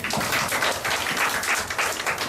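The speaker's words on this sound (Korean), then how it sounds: "우리 박수 한번 쳐드립시다" A church congregation claps together during a sermon, a dense, steady wash of applause filling the whole moment at moderate volume.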